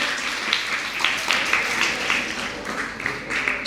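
Steady applause from an audience welcoming a guest on stage at a computer center opening ceremony, many hands clapping together at moderate distance for the whole stretch.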